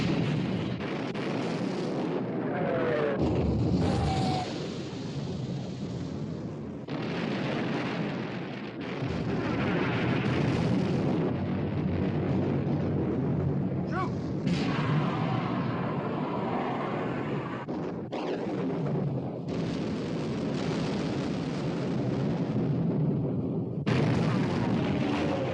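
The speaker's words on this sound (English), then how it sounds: "Prince of Wales and Bismarck exchanging fire." Battleship gunfire as the Prince of Wales and Bismarck exchange salvos in a wartime naval film: heavy booms and explosions recur across a dense, loud battle mix, with voices shouting over it.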